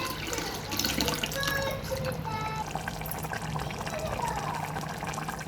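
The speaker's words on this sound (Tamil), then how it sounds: "இப்போ 1 கப்பு ஊற்றிட்டோம்." Water pouring steadily from a cup into a cooking pot for carrot rice, a continuous splashing gush that runs without a break under faint background noise.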